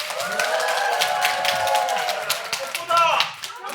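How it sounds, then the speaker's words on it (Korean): Light applause greets the presenters at a public HRD contest final, scattered hand claps running under a voice speaking over them, moderately loud and close. "큰 박수로 맞이해 주시기 바랍니다"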